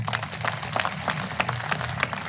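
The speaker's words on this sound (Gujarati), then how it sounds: "ચાલો એકવાર બધા એક સાથે તાળી પાડી દઉં" Crowd applause at a political rally, a dense patter of many hands clapping at once, steady and fairly loud throughout with no speech over it.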